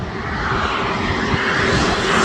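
An airplane flying low near Taipei Songshan Airport, a loud, steady roar of engines that swells slightly as it passes close overhead.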